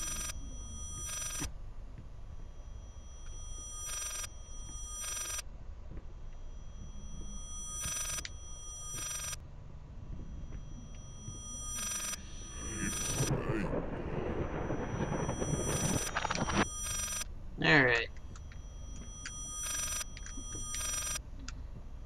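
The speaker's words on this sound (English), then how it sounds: "Still won't let me answer the phone." An old telephone rings in repeated bursts in the horror game Layers of Fear, evenly spaced ringing against a dim ambient background, with a brief spoken word and some shuffling noise partway through.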